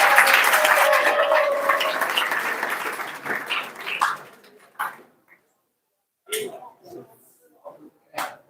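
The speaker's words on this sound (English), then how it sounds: "So let us welcome them with a round of applause." An audience at a devotional gathering applauds drama performers. Dense clapping fills the first four seconds, then fades away, leaving scattered faint knocks and noises.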